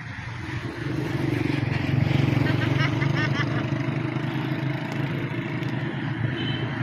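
A vehicle engine approaches along a rural farm road, a steady low rumble building from the start and holding loud throughout, with people talking over it.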